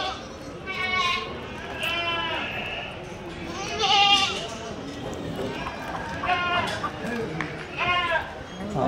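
Goats at the Tuesday livestock market in Kadiri bleat repeatedly in short quavering calls, several animals at close range over a steady din of crowd chatter and voices.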